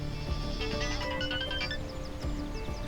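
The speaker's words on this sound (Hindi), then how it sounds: "ओह, शाहीन का फोन है।" A phone ringtone chimes with a melodic electronic pattern in a Turkish drama scene, fairly quiet and continuous for a few seconds over a soft background.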